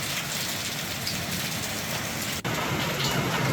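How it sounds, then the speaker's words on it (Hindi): Heavy rain mixed with hail pours down in Dehradun as a dense, unbroken hiss. It stays steady and fairly loud throughout, with no voices heard. "उधर देहरादून में बारिश के साथ जबरदस्त ओलावृष्टि हुई"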